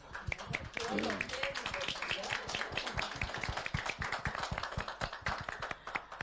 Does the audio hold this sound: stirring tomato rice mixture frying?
no